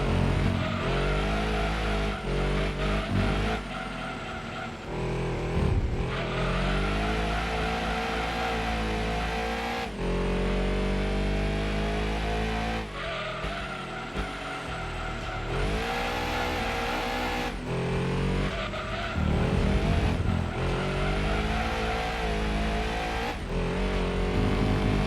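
Race car engine in the Gran Turismo 2 video game on the PS1, revving loudly and continuously with rising and falling pitch through gear shifts, with occasional tire squeal during cornering.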